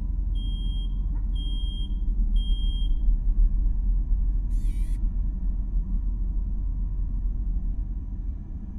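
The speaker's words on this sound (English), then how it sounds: "My god, the alarm." An alarm in a horror video game sounds three sharp, evenly spaced high beeps over a heavy, constant low rumble. A brief hiss follows, then only the rumble continues.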